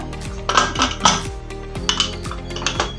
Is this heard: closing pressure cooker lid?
yes